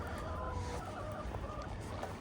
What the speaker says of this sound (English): here's our other site where we have the chickens at right here